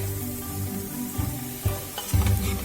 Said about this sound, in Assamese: এতিয়া এইখিনি প্ৰায় 1 মিনিটমান মই এইদৰে ভাজি থাকিম